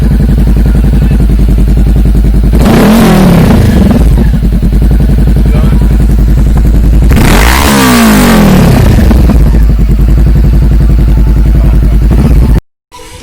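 A Honda CBR500R motorcycle fitted with an SC Project exhaust idles with a steady, close rumble, then revs hard twice in rising and falling bursts before settling back to idle.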